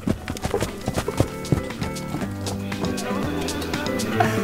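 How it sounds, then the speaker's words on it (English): Horse hooves clip-clop at a Spanish 16th-century castle estate with an olive grove, sharp knocks coming in a loose rhythm over steady tonal music while people talk nearby. "Where did you get this horse from?"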